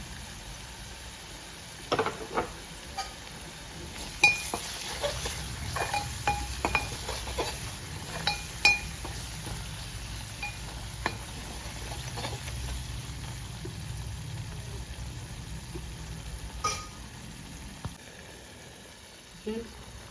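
Fish pieces fry in a pan with coriander and curry leaves for a fish curry, giving a low continuous sizzle with scattered clinks and scrapes of a utensil against the pan, close by and without talk.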